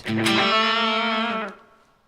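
An Echorec-style tape echo unit on head 1 at its lower setting gives one sustained, distorted, richly layered tone lasting about a second and a half, then it fades quickly to quiet, with no voices.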